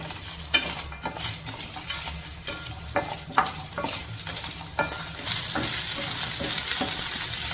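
Onions and five Kashmiri dried chillies are sautéed in a pan, with a spatula scraping and tapping against the metal. A soft sizzle runs underneath and swells into a louder, steady frying hiss toward the end.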